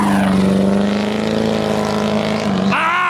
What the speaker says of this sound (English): I got to give you a nice exhaust note of Jacob behind the wheel.